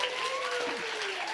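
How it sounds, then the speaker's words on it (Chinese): A church congregation applauding during a Sunday worship service, a brief dense patter of many hands with a faint tonal sound drifting over it. "我们再一次给他们热烈掌声"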